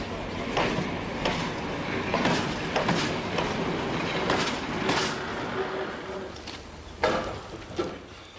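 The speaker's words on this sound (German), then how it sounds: "Und wieder wird rangiert. Der Gläserne muss für die Rückfahrt umgesetzt werden." The glass train of the Trossingen railway shunts along the track, a steady rolling rumble with rhythmic wheel clicks and a few sharper clanks, fairly close.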